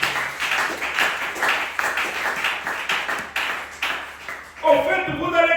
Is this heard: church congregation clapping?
yes